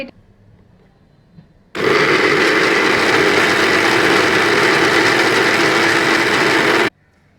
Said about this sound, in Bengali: এটা আমাদের ভালোভাবে ব্লেন্ড হয়ে গিয়েছে।